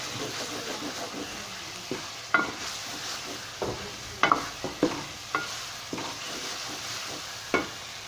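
Chicken frying in a pan for a chicken omelette, with a soft sizzle underneath and a series of sharp, irregular scraping strokes as a utensil stirs it.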